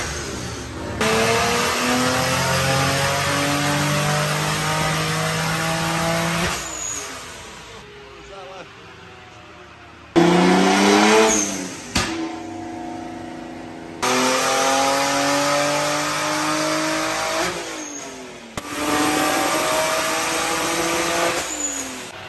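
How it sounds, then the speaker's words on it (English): A loud car engine revs hard on a dyno in repeated long bursts, rising and falling with brief pauses between, close and roaring, with some voices underneath. "We're gonna show Nadim his first dino run. It's about to be really loud."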